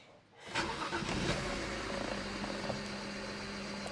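BMW 523i E60 engine cranking and catching at about half a second after near silence, then settling into a steady, close idle hum with faint ticking.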